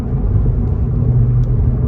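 Loud, continuous low engine roar and rumble from a 2022 Cadillac CT4-V Blackwing accelerating, steady and close throughout.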